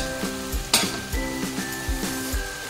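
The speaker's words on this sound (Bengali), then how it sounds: "এবারে এটাই মশলাটাকে ভালো করে কষিয়ে নেব।" Cumin, coriander and ginger paste sizzles and fries in a pan for home-style chicken kosha, with steady hiss under repeated low scraping thuds of a spatula stirring the masala at a close, even rhythm.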